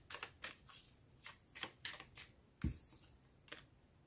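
Tarot cards being shuffled and drawn during a reading: a quiet, close series of soft riffling swishes and card slaps in a loose rhythm, with one low thump midway.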